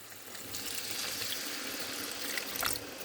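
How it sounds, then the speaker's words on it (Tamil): Water poured into a pan of potato curry, a steady splashing pour at moderate loudness that swells briefly near the end, with no talking. "சிறிதளவு தண்ணீரை சேர்த்து"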